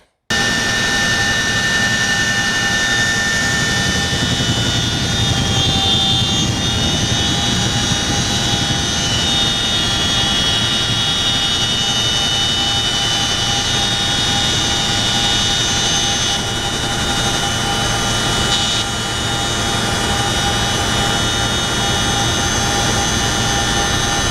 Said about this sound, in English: Then you hear the power of the engines increase, and it's time for liftoff.